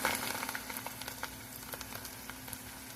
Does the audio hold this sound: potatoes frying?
yes